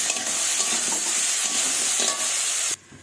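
Rui fish fries with salt and turmeric in a pan, a dense steady sizzle with soft stirring scrapes up close, the hiss cutting off abruptly near the end.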